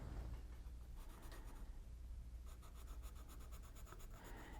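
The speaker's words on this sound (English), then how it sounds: "So I'm flipping my pencil sideways." A pencil held sideways shades a cast shadow on paper in a still life drawing, giving a soft, close, rhythmic scratching of graphite in repeated back-and-forth strokes.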